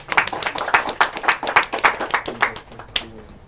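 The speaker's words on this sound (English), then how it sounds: "Round of applause." A small indoor audience at a GraphQL tech meetup in Singapore gives a short round of applause, with dense, fairly close hand clapping that fades out after a few seconds.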